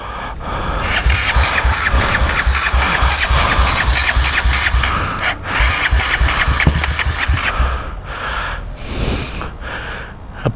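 An old Honda Today scooter abandoned for a year and leaking alcohol fuel from its carburetor starts and runs loudly, its engine chugging and knocking roughly before it sputters and briefly falters.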